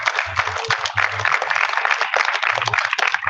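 Audience applause after a community gathering, a steady, dense wash of many hands clapping at close range, loud and continuous with faint voices mixed in.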